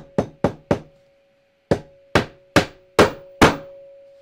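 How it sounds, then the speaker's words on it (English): A hammer strikes a firmly folded fabric wrap for a DIY pressing surface, landing eight sharp, dull knocks: three quick ones, a pause, then five more evenly spaced, each close and crisp. "Now, the more I'm hammering it, the easier it seems to be getting."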